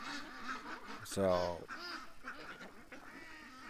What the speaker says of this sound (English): Look at the little duck behind us